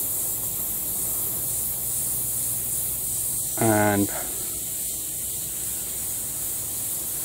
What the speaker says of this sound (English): we'll do a few spray patterns